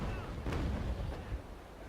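Small cutter's cannon fire in Naval Action booms in a couple of heavy, low blasts a moment apart, each rolling off into a dull rumble.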